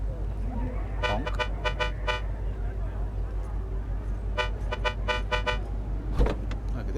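Repeated car horn toots from a vehicle in Cyberpunk 2077, two bursts of quick honks early and a second flurry mid-clip, loud and near over steady engine and city rumble, ending with a sharp thump.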